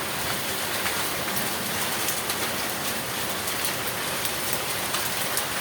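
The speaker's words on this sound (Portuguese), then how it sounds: "Olha, gente, que é pedrinha, pedrinhas, pedrinhas e pedrinhas." Heavy rain mixed with small hailstones pours down during a storm in São Paulo, a dense, constant hiss with faint ticks of stones striking surfaces, steady and unbroken with no voices.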